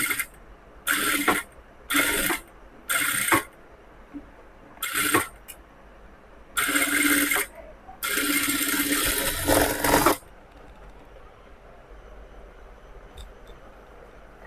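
Sewing machine stitching a cross-cut blouse, running in short mechanical bursts, several quick runs and then a longer stretch, clattering close and fairly loud, then falling quiet.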